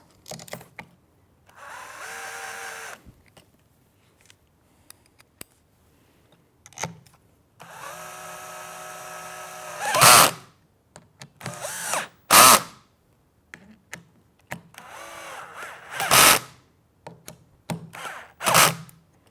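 A power drill drives bolts into the carriage pad of a Contrology Reformer in a garage, with several separate short whirring bursts that start and stop, some loud and sharp, with quiet gaps between them.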